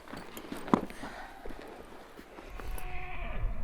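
Horses walking on a Utah cattle drive, with faint clip-clop hoofbeats, a brief whinny and some livestock noise under open outdoor ambience.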